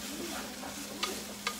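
Breakfast sausage sizzling in a frying pan, a steady close crackling hiss with two brief sharper pops, no talking.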